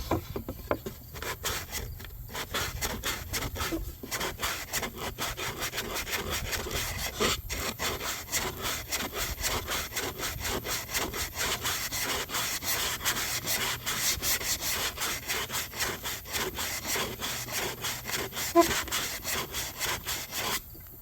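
An electric disc sander works over wooden shelves, giving a steady, close, continuous abrasive whir and scrape with slight fluctuations, lasting throughout without any talking.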